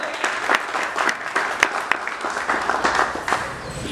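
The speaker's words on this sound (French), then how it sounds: "De gros applaudissements pour Monsieur le Directeur." Applause for a director at an artistic and cultural holiday gathering: a small crowd claps steadily, sharp individual claps popping out of a continuous patter, close and moderately loud.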